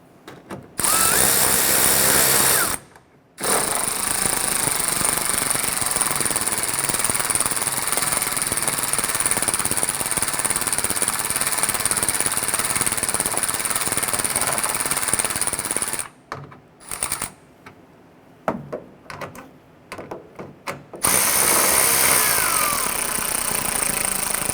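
A power tool runs in long, loud bursts while tightening the plastic-tab fasteners of a 2006-2014 Honda Ridgeline tail light, each burst a steady rough buzz, with short pauses and stuttering stops near the end, close up and with no talking.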